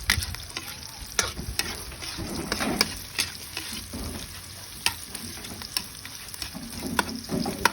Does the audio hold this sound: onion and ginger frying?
yes